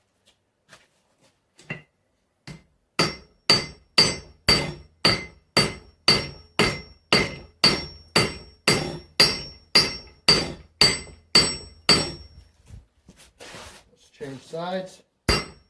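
Steel for an axe is hammered on the edge of an anvil and drawn to a point for welding: a few light taps, then a steady run of about sixteen loud, ringing blows at an even pace. A brief spoken remark follows near the end.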